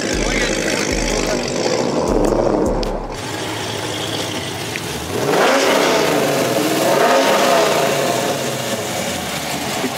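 A manual-transmission Toyota Camry revs at a Cars & Coffee meet, its engine note climbing and falling twice over a steady outdoor rumble, with other cars and people's voices around it.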